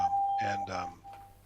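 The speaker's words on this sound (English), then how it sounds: "That's my doorbell." A two-tone doorbell chime rings once indoors, bright and fairly close, with a steady electronic hum underneath.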